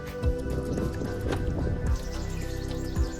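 Water splashes and gurgles steadily from a farm motor pump outlet, close by, with a few louder sloshing bursts over a constant low mechanical hum.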